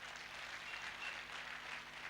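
Steady applause from an audience at a distributor success-day event in Hyderabad, a soft, continuous wash of many hands clapping at a moderate distance, with no talking over it.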